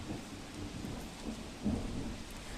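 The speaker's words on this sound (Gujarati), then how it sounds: "ધોધમાર વરસાદ વરસી રહ્યો છે મેઘરાજા ધડબડાટી બોલાવી રહ્યા છે" Heavy monsoon rain in Valsad, Gujarat, hisses steadily throughout, with a low rumble of thunder swelling briefly partway through; no voices.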